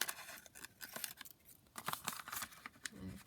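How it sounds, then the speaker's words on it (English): Scissors snip through craft material along its bottom edge, a series of quiet, crisp cutting clicks and rustles in irregular rhythm, close up with no talk. "So I'm just going to cut it down along the bottom here."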